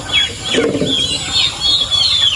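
Turkeys and chickens cluck and gobble close by, a busy overlapping chorus calling continuously.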